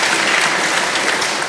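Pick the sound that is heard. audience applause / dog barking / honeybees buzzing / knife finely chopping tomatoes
audience applause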